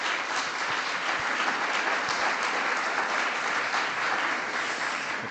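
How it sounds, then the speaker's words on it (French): An audience applauds after a presentation, a steady, dense wash of clapping that lasts throughout at moderate loudness, with no speech. "oui, vous pouvez applaudir"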